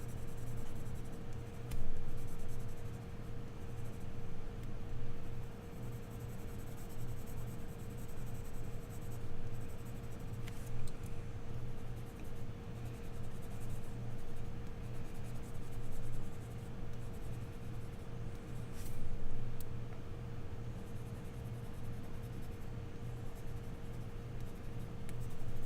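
Continuous soft scratching of a 2B pencil shading dark tones on drawing paper while sketching mountain rocks, a steady close, quiet rasp with slight swells in pressure, heard alone under a faint constant electrical hum.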